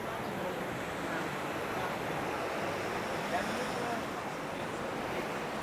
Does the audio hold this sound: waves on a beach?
yes